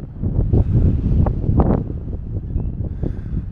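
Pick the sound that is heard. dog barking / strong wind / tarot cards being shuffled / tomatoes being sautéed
strong wind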